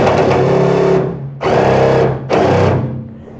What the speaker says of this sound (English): There is a reverse on this drill, so I just wanted to make sure.